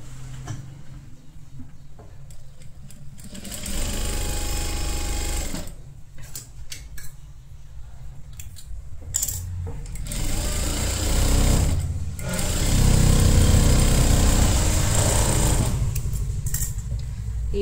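Sewing machine stitching a blouse lining, running in loud bursts of rapid needle chatter separated by short pauses, close and alone.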